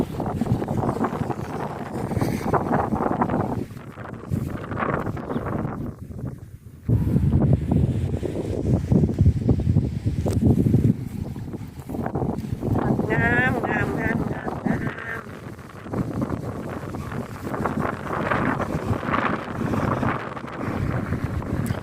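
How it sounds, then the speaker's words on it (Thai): Strong wind buffets the microphone outdoors at a community vegetable garden in cool weather, a loud continuous rumble with gusts, while someone talks under it throughout. "โอ้ย ลมแหงค่ะ"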